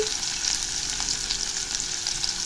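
Steady, dense crackling sizzle of onions sautéing in hot oil with cumin, close and continuous with faint stirring clicks, no voices.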